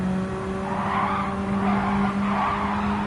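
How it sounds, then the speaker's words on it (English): Race car tires skid and squeal continuously in a racing video game set at Road Atlanta, a loud sustained screech with engine tone underneath throughout. "Just figuring out the weight of the car, the way she slides."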